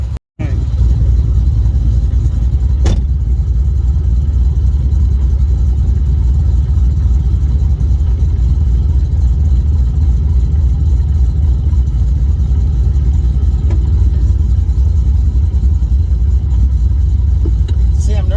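A 2014 Ford Mustang GT500 with a T56 manual transmission drives along, its engine giving a loud, steady low drone from inside the car, with a sharp thump at the start and occasional faint knocks.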